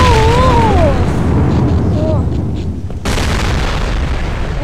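A bomb or barrel blast in the shooter game Operation Black Thunder Remod, heard as a loud continuous boom and rumble of battle noise with a sharp burst partway through, while players talk over it.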